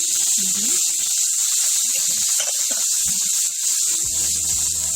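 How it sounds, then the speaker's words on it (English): Steady loud hiss of steam rising from prawns cooking in a hot pan with garlic, coriander and added liquid, continuous throughout with a low hum entering near the end. "As you can see, it's a lot of steam"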